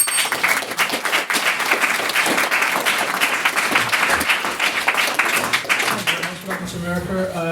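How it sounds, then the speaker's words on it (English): Sustained applause from an audience at a formal debate on refugee policy, dense steady clapping that carries through, with a host's voice coming in faintly near the end. "can I get another round of applause for our maiden speaker this evening?"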